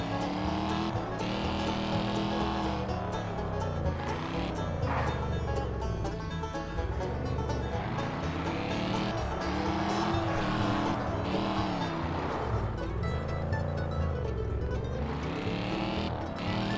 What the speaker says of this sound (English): This car is gonna purr with these parts.